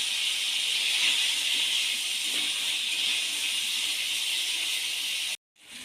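Pointed gourd (kakrol) pieces fry in mustard oil with a little salt, giving a strong, constant close-up sizzle that holds for several seconds and then cuts off abruptly.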